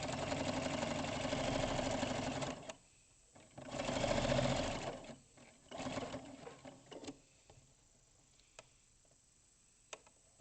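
A sewing machine runs in bursts, stitching a straight quarter-inch seam on a Cathedral Windows quilt, its fast mechanical whirr loud and close, with pauses and small clicks between runs.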